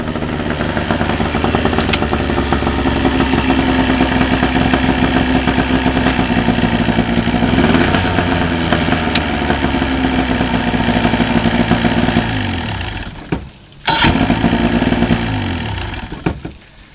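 A 30 horsepower Evinrude outboard motor runs loud and steady up close with heavy shaking vibration, then cuts out briefly near the end before roaring back.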